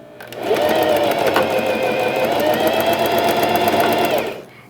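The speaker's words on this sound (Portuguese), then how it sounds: "Vou costurar as pontas" A sewing machine stitches the edges of a pet bandana in one steady, loud, continuous run of rapid mechanical whirring, starting and stopping cleanly.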